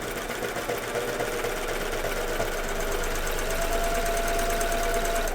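Sewing machine stitching Hudson pants, a steady rapid mechanical whir running continuously at close range and moderate loudness, with no talk over it.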